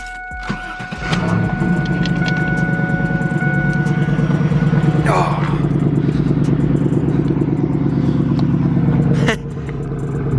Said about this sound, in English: First I'm gonna start the Camaro up because it's the quietest.